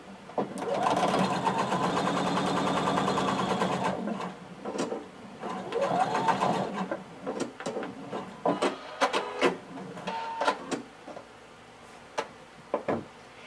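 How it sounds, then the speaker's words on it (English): Sewing machine stitching the back seam of a blazer at 5/8 inch seam allowance, a steady close whirring run for about four seconds, then shorter bursts and scattered clicks of fabric handling. "we're going to stitch all the way down the back"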